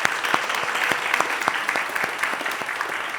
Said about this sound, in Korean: 우리 모두 그분들에게 감사의 박수를 보내드리겠습니다